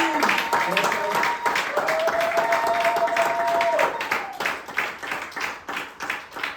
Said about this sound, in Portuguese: Deixe-me pedir uma salva de palmas.